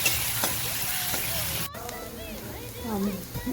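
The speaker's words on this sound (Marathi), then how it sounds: "वाटण घातलेलं आहे मस्त तेल फ्राय करून घ्यायचं आहे" Onion, chilli, garlic and cumin paste fries in hot oil with a steady, close sizzling hiss that drops off briefly midway. It is followed by softer frying and a voice speaking.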